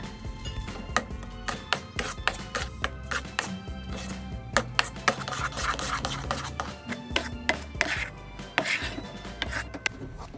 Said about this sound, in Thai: ผัดจนเนื้อแห้งแบบนี้นะคะ